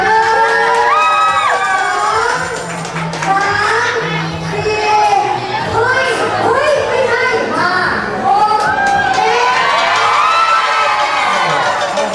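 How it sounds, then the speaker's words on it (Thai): A cheering squad at a ping-pong contest yells and chants loudly, with many young voices shouting and whooping together in a dense, continuous crowd roar. "ห้วยโพครับขอเสียงกองเชียร์ด้วยครับ"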